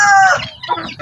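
Rhode Island Red cross chickens cluck close by in a pen, giving a short, loud squawking call followed by a few quick lower clucks.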